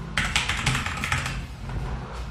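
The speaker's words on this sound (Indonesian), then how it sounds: "di sini nama WiFi-nya saya pilih, nama passwordnya saya ketikkan" A Wi-Fi password being entered on a keyboard during Raspberry Pi setup: a quick run of close, crisp keystrokes that slows and trails off into quiet.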